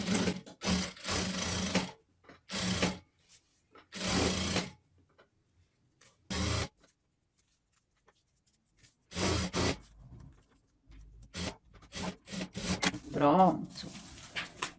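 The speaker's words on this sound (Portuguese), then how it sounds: "E eu vou costurar também por esse lado" Sewing machine stitching satin onto a sweatshirt in short, separate bursts spread across the clip, close and fairly loud, with someone speaking in places between the runs.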